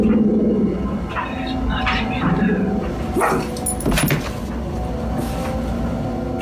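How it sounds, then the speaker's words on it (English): A small dog barks and yips in short bursts, with a low growl between them, in a bedroom, mixed under a narrator's talking. "his little dog TJ is always growling at the corner of his bedroom."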